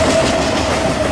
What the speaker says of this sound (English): And to no surprise, it is a short train, actually.